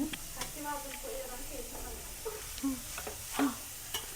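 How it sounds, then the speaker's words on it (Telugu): Grated carrot sizzles and crackles in hot ghee in a home kitchen pan, a soft close frying hiss with scattered pops and stirring clicks, while a person talks faintly in the background. "ఫస్ట్ నెయ్యి వేసి దీంట్లో క్యారెట్ తురిమిండే వేసుకుంటాను."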